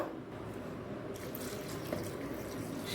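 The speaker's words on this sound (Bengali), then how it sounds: "এমনভাবেই জলটা দিচ্ছি" Water pours into a pot of potato curry, a soft continuous splashing stream, fairly quiet and close, with no voices.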